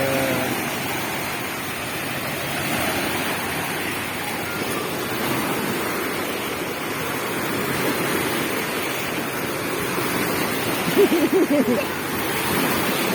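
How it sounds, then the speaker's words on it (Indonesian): Steady roar of large ocean waves crashing and washing continuously, with a brief voice near the end. "ombaknya besar"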